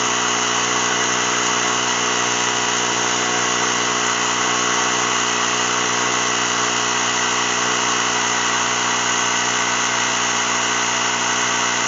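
A Ryobi ONE+ 18V cordless mini compressor inflating a flat car tire: a loud, steady, continuous motor drone with a buzzing tone, close up and unchanging throughout, with no voices.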